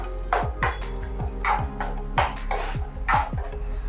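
A spoon clinks and scrapes against a cooking pan in a quick, rhythmic pattern while turmeric, coriander-cumin powder and garam masala are stirred together, close by with no voices.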